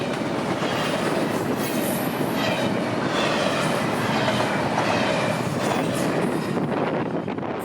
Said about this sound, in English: 143 storming south with almost 2 miles of train tonight